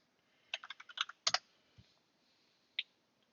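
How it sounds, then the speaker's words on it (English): A passphrase typed on a computer keyboard to set up automatic disk unlock on Ubuntu: a quick run of crisp key clicks, a brief pause, then one lone keystroke, close and quiet in a silent room. "So I'm just going to go ahead and type that in."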